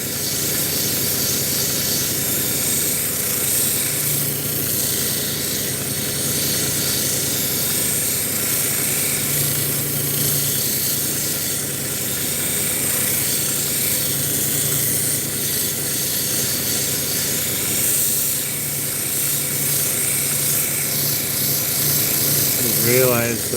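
A lapidary grinding wheel works fire rock at the 1200 grit stage with a loud, unbroken whirring hiss that stays steady throughout. A voice speaks faintly beneath it.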